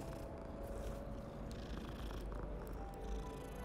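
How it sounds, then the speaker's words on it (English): A cat purrs steadily and close up, a continuous low rumble with no talking, as it is petted in the video game Hogwarts Legacy. "You can pet cats."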